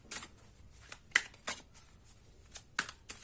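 Tarot cards shuffled by hand, a handful of short crisp riffles and flicks spaced irregularly with quiet gaps between, close and fairly soft, with no talking.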